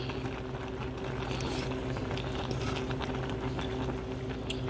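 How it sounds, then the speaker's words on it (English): Noodles boiling in a pot on the stove are stirred, a low, steady bubbling wash with faint scattered ticks and patters, quiet and continuous throughout. "Now we're going to go over here and check on these noodles. Stir them again."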